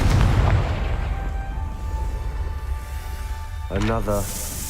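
A Confringo fire spell goes off in Hogwarts Legacy as a loud, deep booming blast at the start, followed by a rumbling tail and a short burst of voice near the end.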